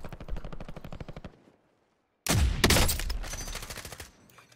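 Rapid automatic gunfire from a battle royale shooter, including an AX-50 sniper rifle, with dense bursts of shots, a short silent gap, then a louder, closer volley that tapers off.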